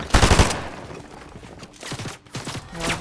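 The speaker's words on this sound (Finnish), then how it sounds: "Mistä päin meitä ampuu?" Gunfire in a Fortnite Battle Royale match crackles in loud, close bursts, a rapid volley at the start and more shots later, with quieter stretches between.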